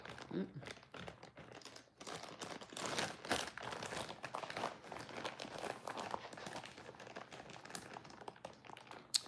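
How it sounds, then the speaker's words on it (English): Can of Bush's baked beans having its top cut off, a steady crinkling, scraping metal texture running throughout at moderate level with a voice talking over it. "Let me cut the top off of it."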